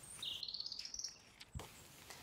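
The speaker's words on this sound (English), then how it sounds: "Once, he heard a nightingale sing." A nightingale sings a brief phrase: a rising whistled note followed by rapid clicking chirps and a sharp call, alone and fairly close over a quiet background.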